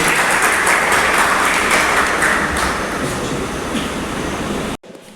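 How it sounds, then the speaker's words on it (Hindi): A crowd at an event applauds in a steady, dense wash of clapping that holds for almost five seconds, then cuts off abruptly. "हमारे रवि सर के लिए भी एक बार जोरदार तालियां।"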